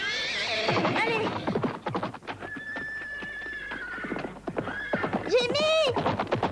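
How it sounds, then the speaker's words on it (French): A horse whinnies loudly and neighs again near the end, with hooves clip-clopping and galloping throughout. A voice shouts over the sounds. "Je prends votre cheval."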